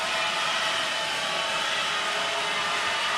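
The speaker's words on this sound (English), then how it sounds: "Fleming Island crowd coming to life" A home crowd at a Fleming Island basketball game getting loud, a dense, steady roar of many voices filling the gym, continuous and fairly loud throughout with no individual words standing out.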